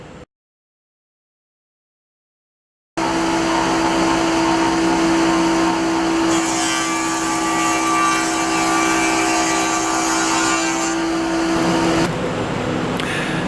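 A wood shaper fitted with a power feeder runs steadily in a shop, a loud continuous motor drone with a sustained tonal whine that shifts slightly midway, after a brief burst and a few seconds of silence at the start.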